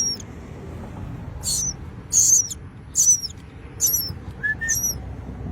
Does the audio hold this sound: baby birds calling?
yes